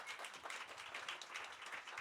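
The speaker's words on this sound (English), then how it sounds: "Everyone, big round of applause for Rick Levine and Jeff Jower." Quiet audience applause at a monthly astrology night held in a bookstore, a dense, steady patter of many hands clapping throughout, somewhat distant and soft.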